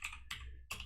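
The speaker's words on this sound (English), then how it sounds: "we can start the ngrok server by typing in the command ngrok" Three quick bursts of computer keyboard typing as a command is entered at a terminal, close and fairly loud with no talk.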